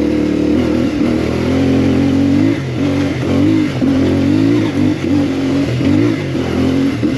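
A CFMoto MT450 adventure motorcycle runs loud and close while riding, its mid-pitched engine droning steadily and rising and falling as the throttle opens and eases off, with no talking.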